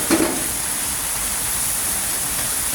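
Carrots sizzling in hot oil with sautéed garlic and onion for chicken sopas, a steady broadband frying hiss that runs evenly throughout with a brief louder burst near the start as they hit the pan.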